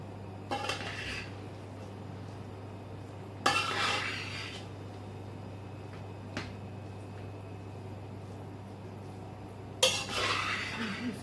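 Pasta biryani is mixed in a pot, giving three separate bursts of metal spoon scraping and clinking against the pot, spaced far apart over a low steady hum.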